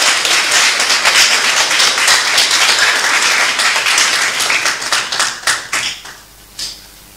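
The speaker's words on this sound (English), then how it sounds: "I think she deserves another round of applause." Audience at a political rally in Ghana breaks into sustained applause and clapping, loud and dense at first, then thinning into scattered claps before dying away.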